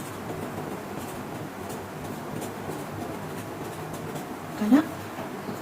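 Pen writing text on a paper sewing pattern for children's trousers, a steady soft scratching stroke throughout, close by, with one brief louder tap near the end.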